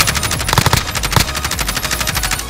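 Rapid automatic gunfire from the Call of Duty Warzone video game, a loud burst of evenly spaced shots followed by quieter continuing fire, with no voices.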